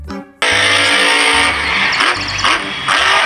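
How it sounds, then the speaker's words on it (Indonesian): A toy monster truck gives out a loud electronic engine sound: revving bursts and a rising, wavering roar with a short low growl at the start, heard alone at close range. "Ada mobil monster."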